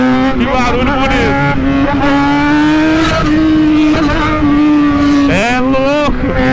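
A loud Jaguar XJ engine drones close by, revving up and down with pitch sweeps, while people talk over it.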